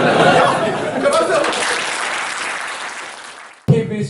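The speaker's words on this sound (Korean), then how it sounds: "박수!" A corporate workshop audience at a Coca-Cola staff training session bursts into loud, dense applause that gradually tapers off, with chatter and light laughter mixed in before a voice cuts in at the end.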